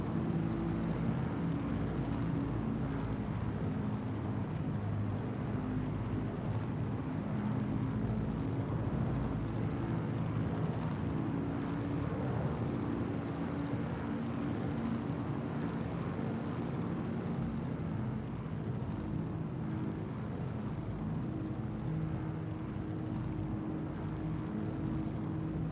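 A Drake Corsair spaceship in Star Citizen flies low and banks through a turn, giving off a continuous, even, rumbling engine hum with no voices.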